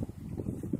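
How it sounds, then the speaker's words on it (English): Wind gusts outdoors on a windy day during a multirotor test flight, rumbling and buffeting against the microphone in a low, continuous roar. "Today is quite windy day here"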